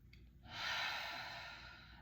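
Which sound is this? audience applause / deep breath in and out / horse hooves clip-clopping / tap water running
deep breath in and out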